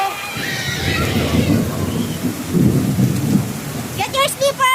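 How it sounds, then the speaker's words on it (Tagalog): Heavy rain pours down steadily while low thunder rumbles in long rolls. Near the end, children's voices rise over the downpour. "Ang lakas po ng ulan dito sa amin."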